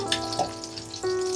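Chilies and onion sizzling as they fry in heated oil and butter for a Parsi omelette, a steady close crackle with a brief stir partway through and no talking.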